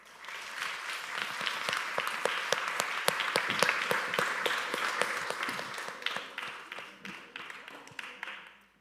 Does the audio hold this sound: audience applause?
yes